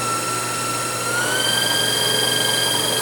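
A Victor 9x49-inch EVS milling machine spindle spins at about 2,400 RPM, giving a steady, quiet mechanical hum with a high whine that rises slightly in pitch.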